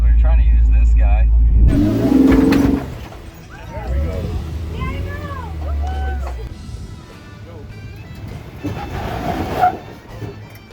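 An off-road vehicle's engine roars loudly and then drops to a lower, labored rumble as it climbs, with squeaks and creaks mixed in and people talking throughout.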